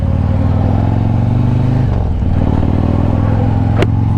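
A 2020 Harley-Davidson Road Glide Special rolls along the road, its engine a loud, close, steady low throb that dips briefly as revs ease, then settles back, with a short sharp click near the end.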